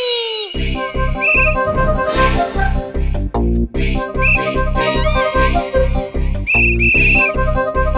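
A traffic police whistle gives a few short, shrill blasts, heard above loud rhythmic music that plays throughout.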